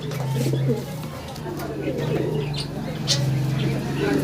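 Pigeons coo in a loft, their soft, low, rolling calls repeating steadily over a voice, which talks through the whole stretch.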